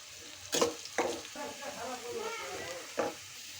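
Onion and garlic fry in oil for a red lentil tempering, a soft continuous sizzle broken by several sharp spatula stirs and scrapes against the pan, with no voices.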